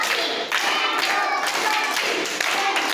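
Children clap their hands together in a classroom literacy activity, a brisk patterned run of sharp claps with brief pauses between groups.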